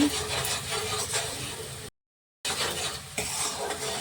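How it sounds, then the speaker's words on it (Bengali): Chili, turmeric, salt, coriander and cumin powders being stirred and sautéed in hot oil in a pan, a steady close sizzle with scraping spoon strokes against the metal, broken by a short silent gap. "মশলাটাকে ভালো করে কষে নিতে হবে"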